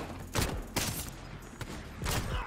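Bursts of gunfire in an online 2v2 shooter match, several loud volleys spaced apart, close and harsh, with no talking.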